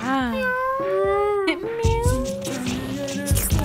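Cartoon cat meowing in the puzzle game Chuchel, a pair of drawn-out, wavering meows in sequence, loud and close, with game music and effects around them.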